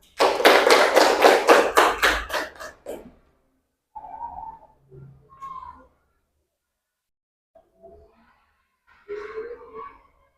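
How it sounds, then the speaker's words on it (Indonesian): A class claps for a classmate, about a dozen quick, even claps in a loud burst that stops after roughly three seconds, followed by scattered quiet knocks and brief faint voices. "tepuk tangan buat Mbak Arlita"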